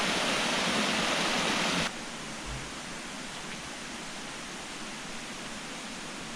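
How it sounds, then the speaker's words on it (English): A small woodland waterfall, Brook waterfall in Wheelton Plantation, pours under a footpath bridge as a loud, steady broadband rush that cuts to a quieter background wash partway through, with no talking. "The water flows under the bridge and down the other side, which is Brook waterfall."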